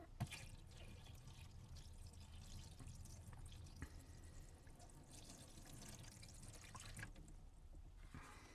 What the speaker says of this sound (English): just pour some water in and see if the plug holds